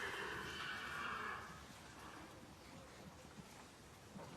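A horse whinnies in a rising, shaky call near the start, then the sound drops to a softer background with faint clip-clop-like shuffles and rustling.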